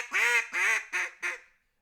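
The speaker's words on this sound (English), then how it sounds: "I want to do basic hail calls." A hail call blown on a duck call for mallards: four loud, nasal quacks in a descending, slowing sequence, the first two long and the last two shorter, ringing out clearly and alone before cutting to silence.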